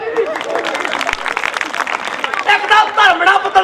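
Applause from a group of people breaks out near the end, a burst of dense clapping over constant overlapping chatter and voices throughout.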